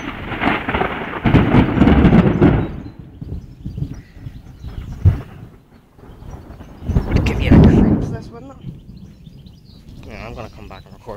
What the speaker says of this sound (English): Fabulous day for a thunderstorm.